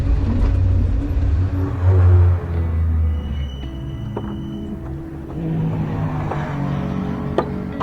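A classic Marcos race car at Snetterton circuit runs with a low, steady engine note from inside the cockpit. The tone shifts as it revs and changes gear, with mechanical whirring throughout.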